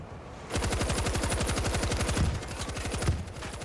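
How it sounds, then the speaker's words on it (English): Mounted machine gun in World War Z: Aftermath firing a sustained rapid burst, loud and close, with dense evenly spaced shots over about three seconds. "I'm getting on this machine gun."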